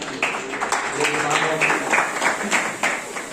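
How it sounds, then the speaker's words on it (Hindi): Audience at a havan yagya ceremony during an annual celebration clapping steadily for about three seconds, a dense patter of many hands at moderate distance with a faint murmur of voices underneath. "आइए सब इनके नाम में ताली बजा रहे हैं।"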